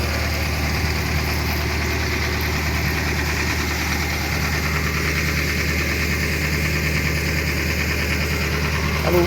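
A tractor engine runs steadily beneath the hiss of a Hardi field sprayer that is operating its nozzles. The engine tone holds a constant, loud, droning pitch throughout, and no voices can be heard.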